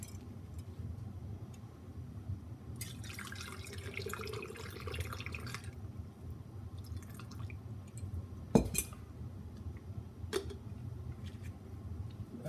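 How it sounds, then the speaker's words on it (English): Oxygen water poured into a bottle for storage in the refrigerator, a low steady liquid rush with a brief splashing burst midway and a couple of sharp clinks of the bottle, fairly quiet, with no talking. "And I'm going to pour this in here, and then I will store this in the refrigerator."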